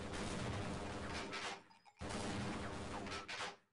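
A turret in a Half-Life game firing dense, continuous bursts of shots, loud and close, broken by a short pause midway before the barrage resumes.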